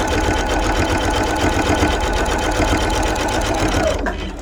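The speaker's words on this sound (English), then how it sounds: "Now I'm going to sew from the opposite corner to finish my big X." A sewing machine stitching a corner-to-corner X across fabric for a bowl cozy, a loud continuous rapid mechanical whir that stops abruptly near the end.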